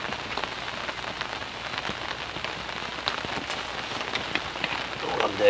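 Steady rain patters across a lake surface at a tench fishing spot, a dense, even hiss of drops with scattered louder plinks, continuous and close with no voices.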